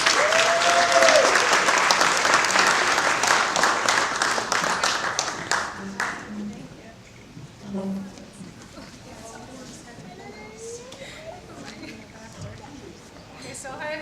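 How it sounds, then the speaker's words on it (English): Wedding guests applaud as a bridesmaid is brought in for the first toast. Loud, dense clapping fades after about six seconds, leaving a quieter room with murmured talk. "please bring her in with a big round of applause,"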